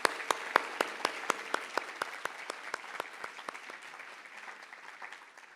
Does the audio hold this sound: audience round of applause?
yes